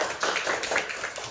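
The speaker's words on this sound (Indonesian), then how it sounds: "tepuk tangan untuk kami" Short burst of hand clapping from a small group in a classroom, steady and moderately loud for just over a second, with no talk over it.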